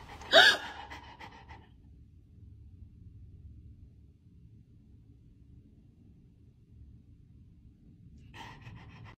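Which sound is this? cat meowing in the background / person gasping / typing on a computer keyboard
person gasping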